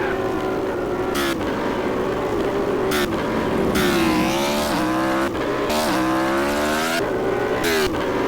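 A fast motorcycle on an Indonesian road speeds past with a loud, continuous engine roar whose pitch rises and falls across repeated revs and gear changes, dominating the whole stretch with no talk.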